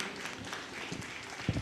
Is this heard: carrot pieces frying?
no